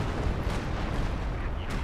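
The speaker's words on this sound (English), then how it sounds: "artillery hitting the JLI infantry" Artillery shells slamming into infantry in Company of Heroes 2, a 4v4 battle on the Nordwind map, heard as a dense, continuous rumble of overlapping booms and blasts with no clear gaps.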